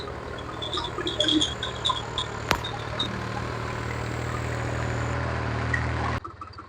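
A New Holland 3630 tractor hitched to a KSA Bheem super seeder runs with a steady low engine hum and one sharp knock midway, then cuts off abruptly near the end.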